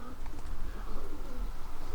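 Janssen racing pigeons coo softly in a loft or crate, a low continuous murmur of overlapping coos with steady background noise.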